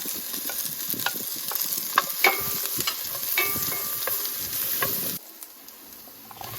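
Onions and garlic sautéing in oil in a preheated pan, giving a continuous close sizzle with light stirring scrapes and taps, the sizzle dropping suddenly near the end.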